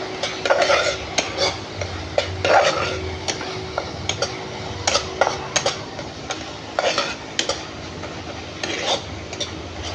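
Ground turmeric, cumin, coriander and chilli powder being stirred and sautéed in a pan for a rohu fish curry, with repeated scraping and clinking of a utensil against the pan over a low sizzle, close and fairly loud, no talking.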